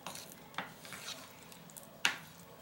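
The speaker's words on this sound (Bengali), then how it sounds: "সমস্ত উপকরণগুলোকে মিশিয়ে নিচ্ছি।" Schezwan chicken ingredients, meat mixed with homemade Schezwan sauce, are stirred together in a pan, giving soft scraping and faint sizzling with a few light clinks and one sharper utensil tap near the end, close and quiet.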